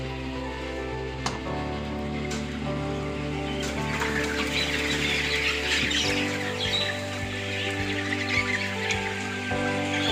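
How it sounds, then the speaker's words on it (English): Young chicks, around five or six weeks old, cheep on a farm with faint scattered peeps over a steady low mechanical hum and patter, distant rather than close. "we raise these chicks from day-old chicks up to 60 weeks"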